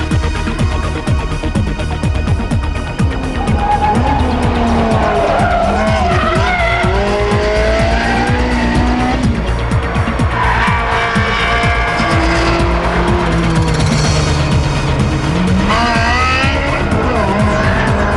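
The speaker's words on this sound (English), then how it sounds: "put the handling to the test on Ferrari's own Fiorano circuit" A Ferrari 360 Modena with an F1 gearbox is driven hard around the Fiorano circuit. Its engine screams steadily throughout, rising and falling with gear changes, while the tires squeal and skid loudly through the corners.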